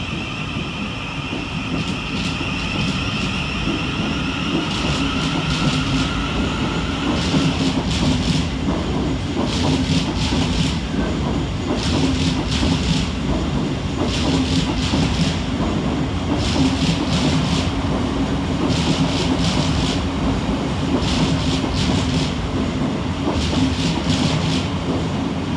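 A Class 700 Govia Thameslink electric train at Redhill station gives a steady, loud rumble throughout, with repeated rhythmic bursts of wheel clatter as carriages pass close by.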